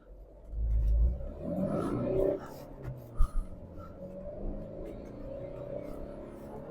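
A Tata Nexon diesel with manual gearbox pulls away hard in sport drive mode, a deep engine roar building in the first couple of seconds then settling into a steady drone, with a couple of sharp knocks midway.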